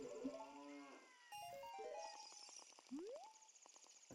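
A cow in the video game Ocarina of Time 3D gives several synthesized, tonal moos with rising and falling pitch, loud and close, alongside other chiming game sound effects, with no talking.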